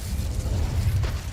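Incendio fire spell cast in Hogwarts Legacy: a deep, rumbling whoosh of flame with a low, sustained roar and a brief crackling burst near the end, close and loud.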